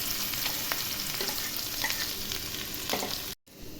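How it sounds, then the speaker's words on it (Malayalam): Finely chopped ginger sizzles in ghee, a continuous close crackling fry with soft stirring scrapes, no voices, ending in a brief sudden silence near the end. "ഇഞ്ചി ഇട്ട് കൊടുക്കാം, കൊത്തി അരിഞ്ഞത്."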